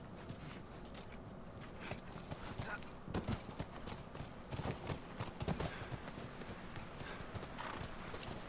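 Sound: horse hooves clip-clopping in a video game

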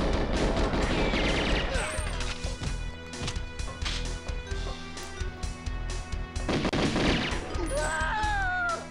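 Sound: gunfire from guards in the video game GoldenEye X

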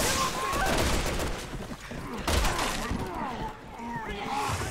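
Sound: sniper rifle shots at zombies in video game Resident Evil 6

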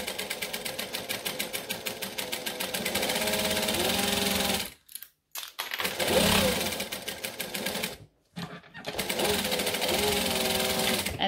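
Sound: sewing machine top stitching a wallet

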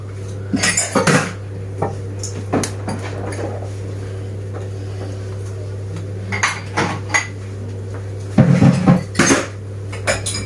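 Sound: washing dishes

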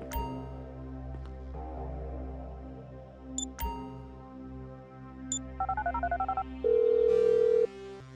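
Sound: phone call being dialed in video game GTA V

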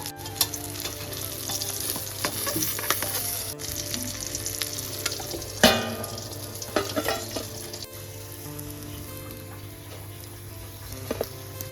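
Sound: tengra fish frying in oil

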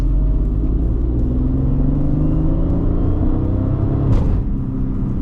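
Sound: supercharged Mercedes-Benz C32 AMG accelerating to 100

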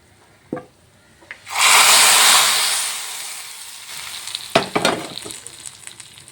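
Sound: roasted coconut added and stirred into yam erissery

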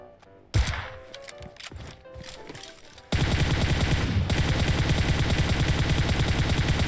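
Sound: gunfire from AWM sniper rifle in PUBG Mobile video game

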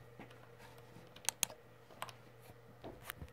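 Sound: pressing Shift and right-clicking with keyboard and mouse

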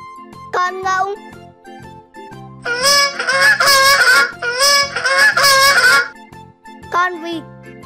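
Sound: goose honking

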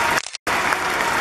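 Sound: audience applause for Peñafiel group

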